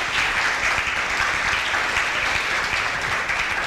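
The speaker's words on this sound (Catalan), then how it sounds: "També, sí, va, aplaudim." A crowd at a gala presentation applauds sponsors, a continuous, fairly loud wash of clapping from many hands that stays even throughout.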